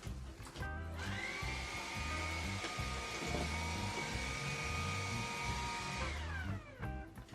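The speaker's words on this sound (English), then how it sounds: "you can start the vacuum right away" A Dreame cordless vacuum cleaner in an apartment whirs up to a steady high motor whine, holds it for several seconds, then spins down, with some light handling clatter around it and no talk.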